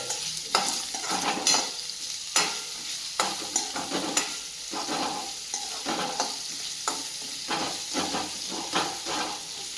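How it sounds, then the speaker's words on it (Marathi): Small chopped totapuri raw mango pieces stirred into a hot pan, an ongoing sizzle and hiss punctuated by repeated rhythmic scraping strokes of a spoon, close and with no voices. "ही कैरी आपण ह्यामध्ये घालून घेऊयात मिक्स करून घेऊयात"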